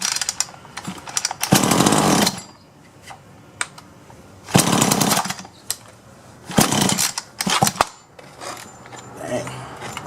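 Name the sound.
Solo 643IP chainsaw being started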